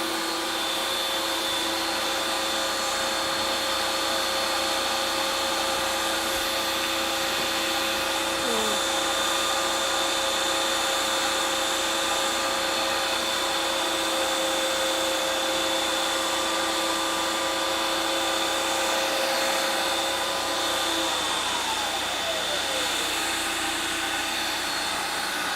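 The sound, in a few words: two ice cream makers running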